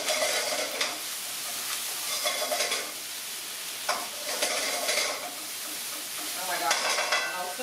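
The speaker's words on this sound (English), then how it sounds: "Throw the ginger in and let it start to saute" Fresh ginger sautés in a pan, sizzling in repeated bursts as it is stirred, with soft scraping, close and fairly loud throughout.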